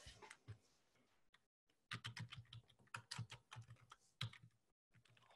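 Computer keyboard keys clatter as a username and password are entered, quick clustered keystrokes broken by short pauses, close and clear with no talking.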